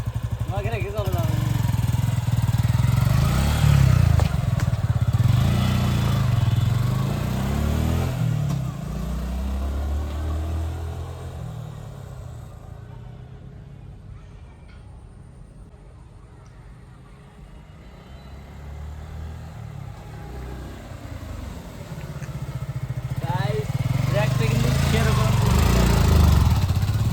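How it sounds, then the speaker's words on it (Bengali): A newly bought motorcycle is ridden, its engine droning and rising in pitch as it revs, fading to a distance midway and then growing loud again as it comes back close, with people talking over it. "বাইকটা একটু রাইড করে দেখাচ্ছে আপনাদেরকে"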